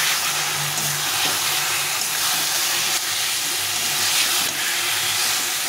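Marinated chicken frying in a spice masala gives a steady, loud, dense hiss and sizzle that runs unbroken throughout, with no talking.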